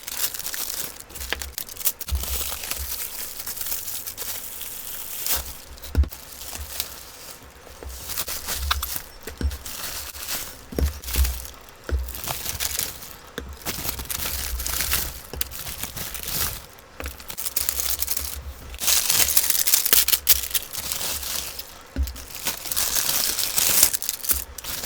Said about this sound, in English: So let's get to unwrapping them